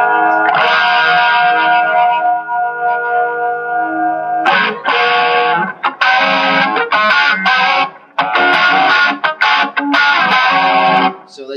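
Joyo/Rocktronic guitar pedal used as a boost, giving bright harmonic breakup: a sustained overdriven chord rings out, then a series of loud choppy strummed bursts with short gaps, alone without talk.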